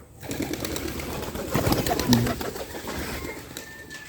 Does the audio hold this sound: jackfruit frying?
no